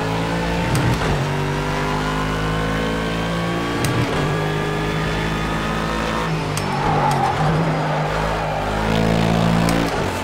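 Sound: GT3 race car engine at full throttle in Project CARS 2 video game

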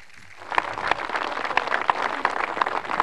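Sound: crowd applause

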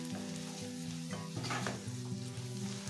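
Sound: stirring green pea and potato ghugni with coriander in pan

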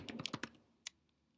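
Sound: typing on a computer keyboard

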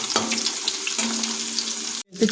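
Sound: carrots frying and being stirred in a pan

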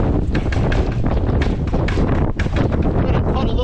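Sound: strong wind

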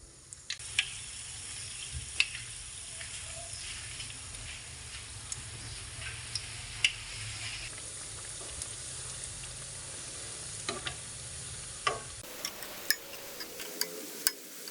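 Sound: onions frying in oil on a stove

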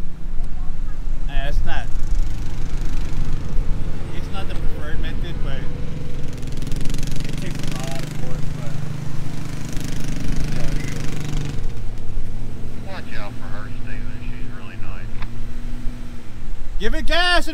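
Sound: Jeep engine revving while stuck F150 is pulled out

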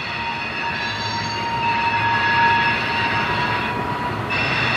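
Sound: NS or CSX freight train passing with squealing wheels

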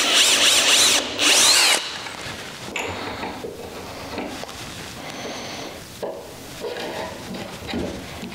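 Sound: power drill drilling a hole in a pine door rail

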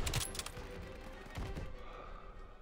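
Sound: gunfire in video game Call of Duty WWII

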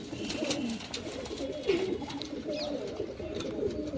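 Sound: pigeons cooing

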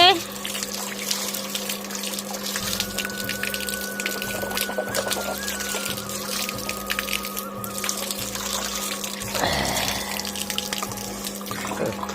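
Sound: tap water running while washing hands

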